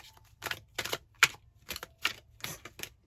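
Tarot cards shuffled by hand in a series of crisp, rapid riffling bursts, about eight short clatters spaced across a few seconds, close and fairly quiet with no talking.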